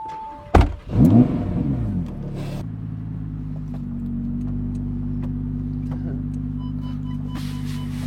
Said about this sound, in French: Démarre la caisse, mon pote.